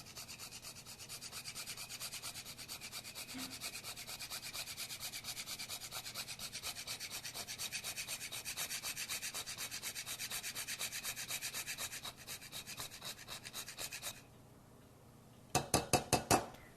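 Whole nutmeg rubbed against a microplane zester in a rapid, steady rasping scrape that runs close and continuous, then pauses briefly before a few final quick strokes.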